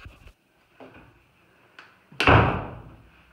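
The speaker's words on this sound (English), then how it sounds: "this door here goes to the second bathroom" The door to the second bathroom of a two-bedroom model apartment gives a few soft clicks and handle rattles, then a louder thud and swish as it swings open and settles.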